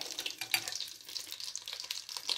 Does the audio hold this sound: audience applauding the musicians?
no